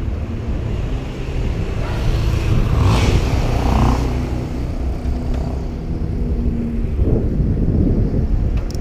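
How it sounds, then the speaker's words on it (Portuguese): A motorcycle engine rumbles past over steady traffic noise, swelling to a peak midway and then fading off. "Pera aí, espera a moto passar."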